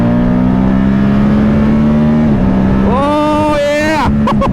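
A Moto Guzzi Stelvio motorcycle engine in sport mode, a steady loud drone that dips, then climbs sharply as the rider accelerates through the gears, ending in a few quick throttle blips.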